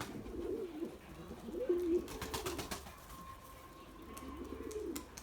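A white pigeon trying and failing to land coos softly nearby, with rustling and faint wing flutters as the bird shifts about, and a thin steady tone lingers in the background.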